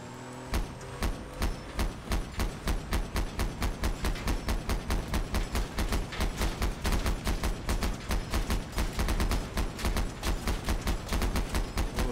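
Video-game gunfire from a Let's Build vehicle experiment, shooting at a character named Ivan: a long, rapid, evenly spaced stream of loud shots, machine-gun-like, continuing for the whole stretch with no talk.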